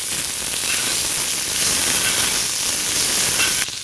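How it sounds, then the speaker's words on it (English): A côte de bœuf rib eye roasting in a pan while being basted with its fat, giving a steady, loud sizzle and hiss that runs without a break and cuts off sharply near the end. "I continue basting the meat so we help to caramelize and cool down the fat around the meat inside the pan"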